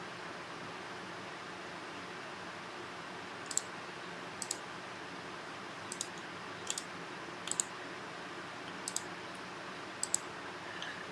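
A computer mouse clicks crisply about nine times in loose, irregular pairs and singles, close and fairly loud above a steady soft hiss of room noise, with no voices.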